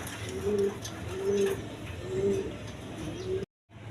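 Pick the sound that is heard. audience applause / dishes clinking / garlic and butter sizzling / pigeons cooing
pigeons cooing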